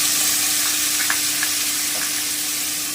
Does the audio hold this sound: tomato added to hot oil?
yes